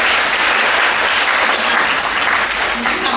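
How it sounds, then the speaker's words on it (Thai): Sustained applause from a sizable crowd, loud and steady throughout, with dense clapping filling the whole stretch. "ปรบมือให้กับท่านอาจารย์"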